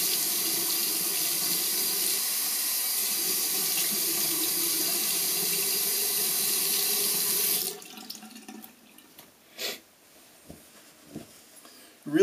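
A tap runs steadily into a sink for about eight seconds while the face is wetted for shaving, then stops, leaving a few faint splashes and drips.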